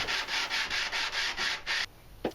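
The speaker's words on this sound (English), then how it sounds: "the main body of the box could be sanded as well" A small handmade wooden box being sanded by hand with sandpaper, seven steady rhythmic rasping strokes close up, then the strokes stop and a soft knock follows.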